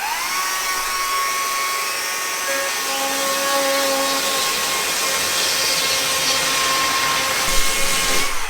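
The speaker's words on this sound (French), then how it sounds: "j'ai une petite tronçonneuse électrique, c'est très pratique, et je vais les couper en 3 morceaux" A small electric chainsaw cutting through panels, a continuous high whining buzz with shifting pitch as the blade bites, steady and close throughout.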